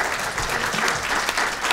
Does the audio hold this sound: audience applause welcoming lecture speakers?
yes